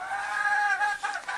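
Farm chickens, with a rooster letting out a strained, drawn-out crow close by, followed by a few short broken clucks.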